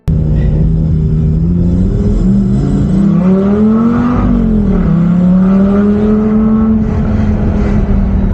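A 2007 Lamborghini Gallardo sports car engine revs loudly and up close, its pitch rising and falling through several sustained throttle sweeps over a steady rumble, with no talking.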